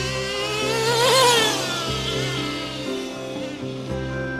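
A Traxxas Slash Nitro RC car's small nitro engine screams and revs while driving, rising to a high whine, then dropping into rhythmic pulsing revs as it slows.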